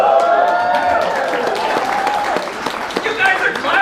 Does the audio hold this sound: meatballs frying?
no